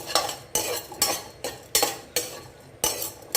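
A spatula scrapes and clinks rhythmically against a pan while urad dal and tamarind are lightly roasted, about eight distinct stirring strokes over a faint sizzle, with no talk.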